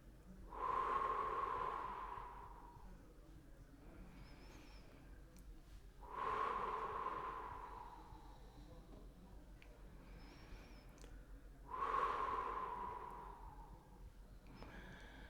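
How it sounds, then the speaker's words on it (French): Three deep breaths exhaled through the mouth, evenly spaced about six seconds apart, each a close, soft, airy whoosh that fades out, with quiet room tone between them. "Et là encore, on fait 3 respirations profondes en soufflant par la bouche."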